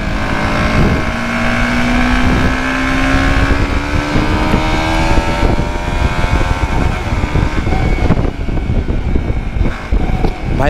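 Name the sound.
motorbike ride in third gear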